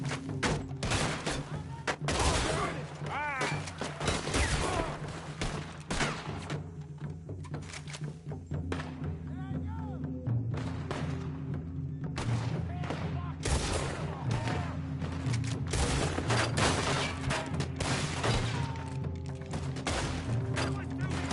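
Rapid, dense gunfire in Red Dead Redemption 2 on PS4 Pro, with sharp shots crackling almost nonstop over a low rumbling bed while voices shout throughout.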